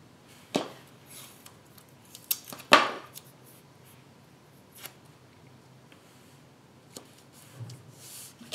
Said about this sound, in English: And then I'm gonna cut out this thank you